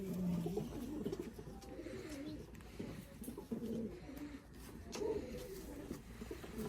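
Pigeons cooing in low murmuring calls, the birds kept by pigeon fanciers, heard softly and somewhat faintly throughout with a few louder coos standing out against background noise.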